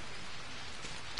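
Steady rain falls outdoors at a fishing spot, a continuous soft hiss of drops on surfaces with no talking, fairly close and even throughout.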